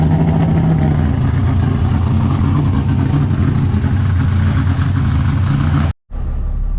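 Drift car engine droning steadily as it drives around the block seasoning its brakes, a continuous mid-pitched engine note that cuts off abruptly near the end, followed by a quieter tail.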